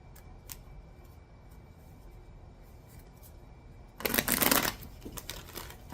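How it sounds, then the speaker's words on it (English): A short, crisp burst of cards being riffled and shuffled breaks a quiet stretch of faint ticks and soft handling noises. "There's more shuffling to do here."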